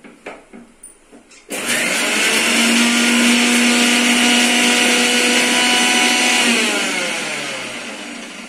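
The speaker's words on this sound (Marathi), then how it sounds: "आता मी हे मिरची आहे ना मिक्सर मध्ये याला पण बारीक करून घेते" Electric mixer grinder whirring steadily as it grinds two green chilies with coriander and cumin, starting abruptly after a few light clicks and running loud for several seconds before winding down.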